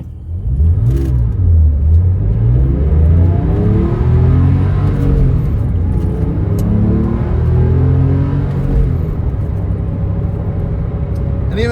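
Porsche 997.1, nearly 20 years old, accelerating hard with loud engine rumble that climbs in pitch, drops at a gear change, then climbs again, heard from inside the car with no talk.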